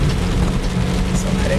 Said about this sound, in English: It's probably like one area of heavy rain right above me